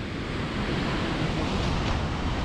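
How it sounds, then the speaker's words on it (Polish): Large ocean waves at high tide on an Icelandic black-sand beach, a loud sustained roar of surf with wind buffeting the microphone. "Przepiękne, wielkie fale"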